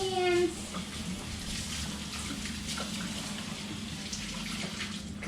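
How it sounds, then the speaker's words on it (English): Hands rinsed under a running tap in a home kitchen while baking gluten-free chocolate chip cookies, giving a steady close water hiss that starts just after a brief tone and continues throughout. "And then you want to wash your hands."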